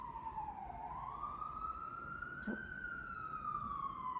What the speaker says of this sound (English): Siren confirmation, perhaps?